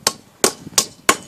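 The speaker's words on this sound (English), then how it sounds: "Now, I'm going to flatten this a hammer, just beat it flat." A hammer pounds a metal car wing panel from a Mk2 Golf flat, four sharp ringing blows at a steady pace about a third of a second apart, close and loud with no talk.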